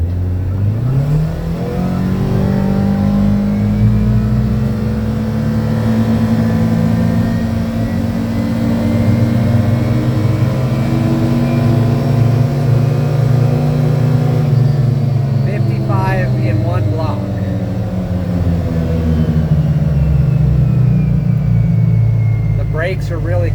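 A 2025 Kawasaki Ridge Crew XR Limited side-by-side in sport mode and two-wheel drive accelerates hard, its engine drone rising and holding loud and close, then dipping around a shift before climbing again, with some talk mixed in.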